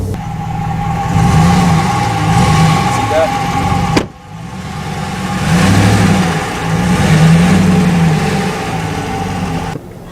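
A Ram 1500 Rebel pickup truck stuck off-road revs its engine in loud, repeated surges. The engine drops back to a rumbling idle between the surges, with a brief break in the middle.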